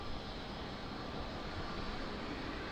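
An airliner on approach to Lisbon Airport gives a steady, broad jet-engine roar that holds at an even level throughout, fairly distant and unbroken, with no voices.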